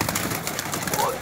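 Brief, close cooing from high-flying pigeons, soft low murmurs repeating over a short moment, with someone talking over them.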